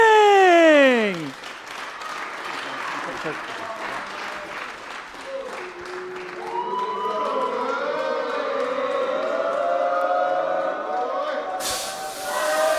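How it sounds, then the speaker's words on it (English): Crowd applause at a darts finals night for Week 9 winner Mervyn King, a sustained roar of clapping and cheering that swells and holds in a large venue, following a brief tonal sweep at the start. "please give a warm round of applause to your Week 9 winner"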